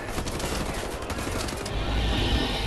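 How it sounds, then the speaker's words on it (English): Gunfire in the video game Wolfenstein The New Order comes in a steady rattling fusillade of rapid shots, fairly quiet in the mix, with a heavier burst toward the end. "Where are they shooting at?"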